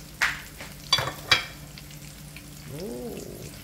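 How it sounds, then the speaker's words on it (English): Green plantain slices fry in garlic-flavored oil for Jamaican-style crispy plantains, a steady close sizzle with a few sharp pops and clinks, then a brief soft, voice-like tone near the end. "So you allow them to fry on medium heat until you get a nice crispy golden look."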